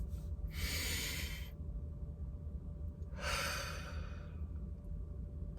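Two deliberate, slow breaths, each a soft airy exhale lasting about a second, separated by a quiet pause, close and alone over a low steady background hum.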